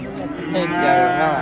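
Six-month-old calves call at a busy Surxondaryo cattle market. A drawn-out bawl swells in the middle of the clip against steady crowd murmur and nearby voices.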